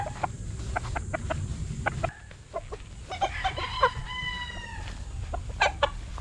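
A young gamecock crows in a rising, drawn-out call amid scattered clucks and sharp calls from nearby fowl on a farm, with a low steady background rumble.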